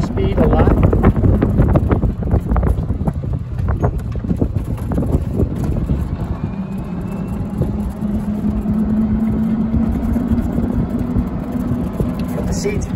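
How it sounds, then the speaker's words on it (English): A 48-volt Club Car Precedent golf cart in glacier white, on 12-inch wheels, drives along with a low motor whine under rumbling tyre and bump noise and gusts of wind across the microphone, while someone talks over it. "Being a 48-volt cart, this will do anywhere from about 16 to 20 miles an hour."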